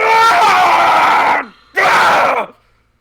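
A loud, anguished scream from the courtroom video game Ace Attorney, two long sustained cries separated by a short gap, the second cutting off abruptly into silence.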